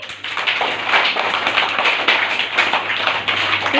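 Children clap their hands in a room, a busy patter of many small claps with irregular bursts, fairly close and loud and continuing without pause.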